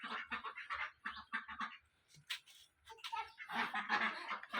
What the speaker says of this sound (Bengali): পরিমা, আল্লাহ কেমনে হাঁস তাড়াচ্ছে বাবা